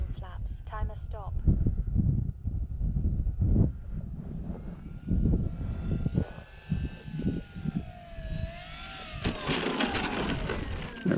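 An Arrows RC Bigfoot model plane on its landing approach, with flaps down, buzzes steadily overhead. The rising and falling electric whine runs under ongoing talk nearby.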